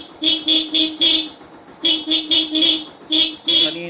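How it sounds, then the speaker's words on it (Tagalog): A Yamaha SZ motorcycle horn honks in two bursts of short beeps, four quick toots, a pause, then four or five more, loud and close. "Busina ko nga."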